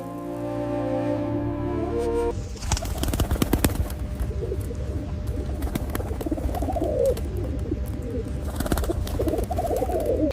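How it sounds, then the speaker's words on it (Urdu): Pigeons cooing at a farm field in evening light, soft repeated coos and bird calls, moderately close, over a steady rustling background, with no talk. "شام کی روشنی میں یہ کبوتر کتنے خوبصورت لگ رہے ہیں"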